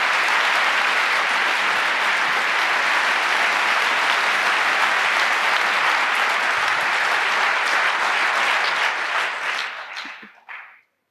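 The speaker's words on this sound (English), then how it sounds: "please give a warm round of applause to all three of those." A large audience gives a warm, sustained round of applause for speakers at a talk, dense and even for about ten seconds before tapering off quickly into silence.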